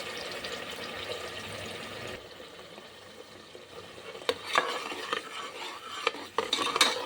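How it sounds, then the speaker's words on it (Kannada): Wet ground masala is stirred and fried in hot oil for a country-chicken sambar, giving a steady close sizzle with scraping spoon strokes and sharp clinks against the pan, the frying louder in the first two seconds; nobody speaks. "ಕಾದಿರೋ ಎಣ್ಣೆಗೆ ಹಾಕ್ಕೊಂಡು ಸ್ವಲ್ಪ ಸ್ಮೆಲ್ ಹೋಗೋವರೆಗೂ ಚೆನ್ನಾಗಿ ಬಾಡಿಸ್ಕೋಬೇಕು"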